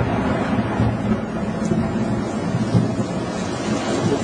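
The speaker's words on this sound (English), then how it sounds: "There we go, we're getting more rain." Rain falls steadily during a thunderstorm in Meridian, Mississippi, a continuous broadband hiss of drops with some wind rumble, even and unbroken throughout with no voices.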